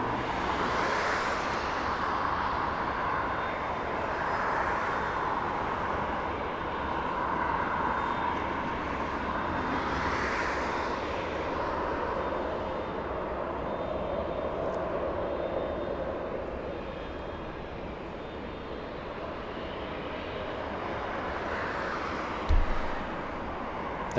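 A Qantas airliner, flight QF93 from Melbourne, passes at Los Angeles International Airport with a steady broadband jet roar that swells and fades in slow waves, carried with some wind noise.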